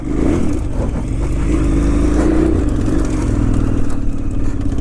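A KTM 990 Adventure motorcycle rides off-road across autumn fields and rutted farm tracks, its big twin engine droning steadily and loudly throughout with a low rumble and no pauses.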